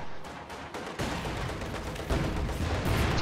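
T-34 tank gunfire in a Company of Heroes-style battle, with loud rapid bursts of shooting and heavy impacts over continuous battlefield noise that grows denser toward the end, and no voices.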